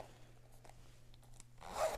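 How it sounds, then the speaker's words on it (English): The zipper on a Louis Vuitton Multi Pochette pouch is pulled in a quick, soft, close rasp that grows louder toward the end, with no speech over it. "Smooth zipper."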